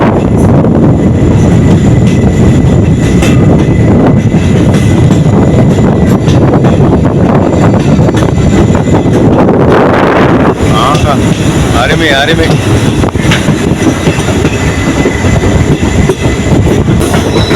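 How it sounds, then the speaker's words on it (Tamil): A train climbs slowly with a diesel pusher engine at the rear, giving a loud, continuous rumble and clatter of wagons with strong wind buffeting the microphone, and a brief spoken word near the end. "பின்னாடி ஒரு இன்ஜின், டீசல் இன்ஜின் தாங்க."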